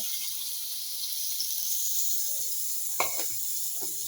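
Fish sizzles in a little oil in a pan, a steady close hiss with a couple of sharper crackles and spatters toward the end.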